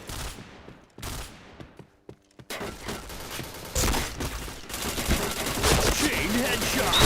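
Gunfire in the shooting game Point Blank, with sharp bursts and rapid volleys separated by brief gaps, growing into a dense, continuous barrage toward the end, loud and close.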